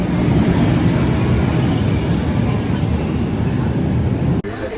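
Steady loud rumble of a train carrying passengers from Brussels to Ghent, Belgium, a continuous low roar of wheels and carriage with no talk, ending in a brief clunk and dip near the end.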